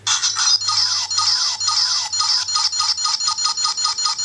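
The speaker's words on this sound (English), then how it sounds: "I do like that phone pressing sound." A Kamen Rider Gaim Lock Seed candy toy plays an electronic phone-pressing sound effect: bright, loud beeping tones in a quick repeating pattern of short pulses, close and alone.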